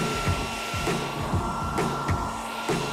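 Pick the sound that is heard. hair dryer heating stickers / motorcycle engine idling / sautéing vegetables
hair dryer heating stickers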